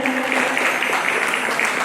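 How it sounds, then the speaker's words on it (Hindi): A crowd at an annual celebration function claps steadily throughout, a dense, even patter of applause with no pauses. "सम्माननीय माखन लाल जी सवे बार जोरदार सम्मान से ताली हो जाए"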